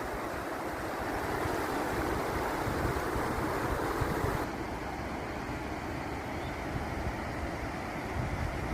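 Steady rushing water of a river flowing beside a plot of land in Rajakkad, Idukki, a broad continuous roar with wind-like noise, fairly loud and unbroken throughout, with no voices.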